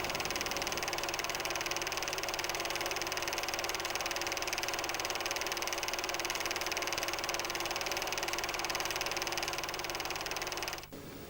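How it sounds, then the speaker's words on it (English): A Ford Pop special fitted with a de Havilland Gypsy Queen aero engine runs steadily with a loud, harsh, even drone that holds for about eleven seconds before cutting abruptly near the end. "he created a zany special combining Ford Pop with de Havilland Gypsy Queen aero engine"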